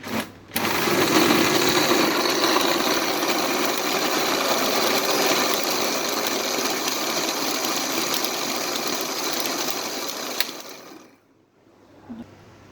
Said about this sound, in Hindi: इसको कवर कर देंगे और इसको ब्लेंड करेंगे